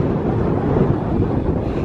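Strong wind at Cape Cornwall buffeting the microphone, a loud continuous low roar and rumble with no voices.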